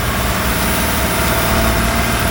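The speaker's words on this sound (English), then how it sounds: "So we're going to run the engine wide open." A rebuilt John Deere 850J dozer engine runs wide open at steady full throttle, a loud, dense, unbroken roar heard close up and alone.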